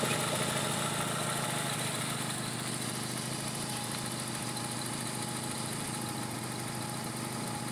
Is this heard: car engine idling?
yes